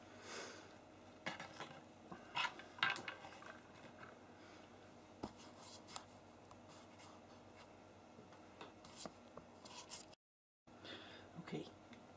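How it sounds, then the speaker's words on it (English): Silicone being stirred in a mixing cup, faint soft scraping and light tapping strokes at close range, irregular and quiet, with a short dropout near the end. "I'm just going to mix the silicone first of all"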